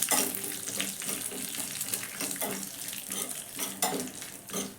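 Roasted peanuts frying with spices in a pan for a peanut chutney, giving a steady, loud sizzle with occasional stirring scrapes, close and continuous.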